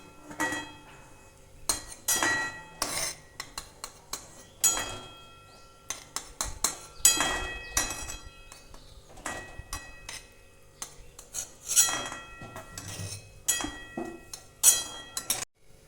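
Boiled cauliflower florets lifted out of hot water in a kitchen with metal utensils, giving irregular close clinks and scrapes against the pot with quiet gaps between.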